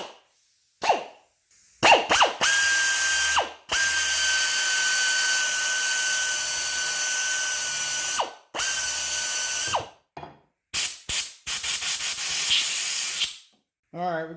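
A drill bores into a press-in cover plug on a Walker 1.5-ton floor jack, model 93632, in loud steady whining bursts separated by short pauses, ending with a few quick rattling spurts.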